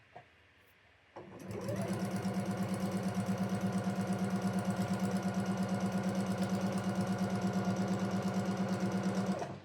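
A sewing machine stitching quilt block pieces starts up after a quiet moment and runs in a fast, steady, even rhythm, close and alone.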